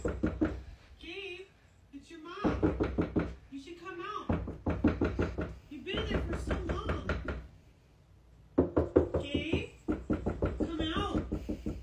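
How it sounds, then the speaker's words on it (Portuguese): Repeated knocking on a door comes in clustered bursts of sharp raps with short pauses between, fairly close, while a voice talks over and between the knocks. "uma série de barulhos de batidas que não parecem estar indo embora tão cedo"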